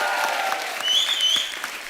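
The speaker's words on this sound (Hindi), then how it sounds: "आप सब एक बार आलिया के लिए जोरदार तालियां" An audience claps for Alia, a brief burst of applause, moderately loud and steady, with a light murmur of the crowd underneath.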